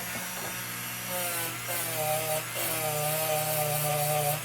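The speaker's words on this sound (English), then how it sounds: "Let me see if the Dremel takes a lot of work to get that blue off there." A Dremel rotary tool grinds factory blue paint off a metal clipper lantern, giving a steady, close, high-pitched whine with a rasping edge that wavers in pitch as the bit presses into the surface.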